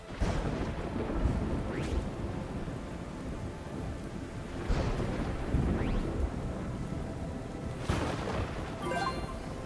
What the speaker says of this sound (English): Have I been struck by lightning for the very first time now?